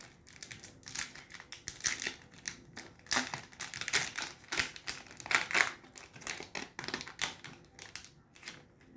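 Close, continuous crinkling and tearing of plastic wrapping as a Yu-Gi-Oh card package is opened, irregular crackles and rustles throughout with no talking.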